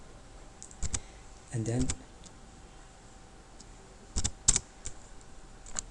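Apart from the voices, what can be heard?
computer keyboard typing HTML code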